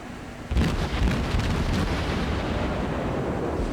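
Naval video game battleship firing a broadside, a sudden heavy booming onset followed by sustained dense rumbling roar of overlapping cannon blasts, loud and continuous with no voices.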